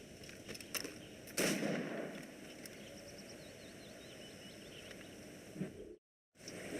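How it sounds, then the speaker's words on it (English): Gunshots aimed at targets in the video game Assassin's Creed Rogue: a few sharp reports, one louder blast standing out, over a quiet game ambience with faint bird calls, before a brief silence. "as soon as you've hit that second target, you really want to reload straight away as you're running"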